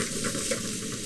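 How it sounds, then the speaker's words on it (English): A whole onion fries in a pan during a tailgate cook outdoors, a dense close sizzle with a quick stir scraping through it, no voices. "Stir it up a little bit."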